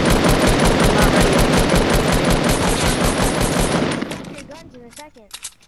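Rapid automatic gunfire rattles loud and close in Fortnite, a dense sustained burst that cuts off after about four seconds, leaving a few scattered shots and clinks trailing away.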